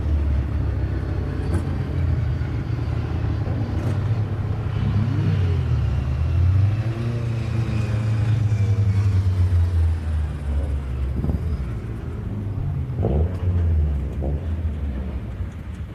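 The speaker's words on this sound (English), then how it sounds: "Now whilst the cars go in" MG Cup race cars rolling into the pits at a circuit, a loud continuous low engine rumble with shifting revs and passing vehicles blending together over about sixteen seconds, with no voices.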